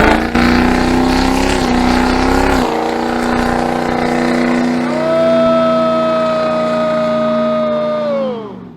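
A Ford F450 Powerstroke diesel pickup truck doing a burnout roars loudly at high revs, then the pitch rises into a sustained whine that drops off as the throttle is released, heard up close.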